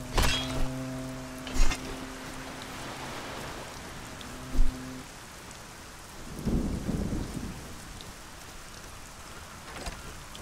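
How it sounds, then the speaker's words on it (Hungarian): Steady rain with rolling thunder in the fantasy video game Arcania: Gothic 4, a constant downpour hiss broken by a few heavy thunder thuds and a low rumble, with no talking. "Több az eső alig-alig lehet látni minden szürke."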